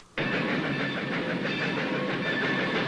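A train running on railway tracks, a continuous loud rumble with a rhythmic clatter of wheels, starting abruptly and holding steady throughout.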